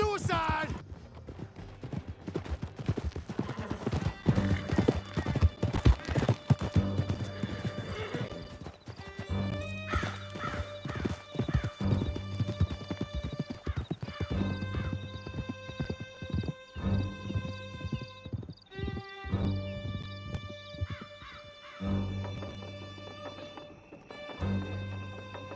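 Horses gallop in Red Dead Redemption 2, with continuous rhythmic hoofbeats, occasional whinnies, and game music layered throughout, loud and close, while voices speak over parts of the ride.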